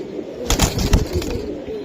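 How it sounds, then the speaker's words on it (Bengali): Two lively pigeons at a pigeon seller's give a few close, low coos mixed with brief rustling bursts like wing flaps. "এই যে দেখেন দুইটা কবুতরে ভাই অস্থির"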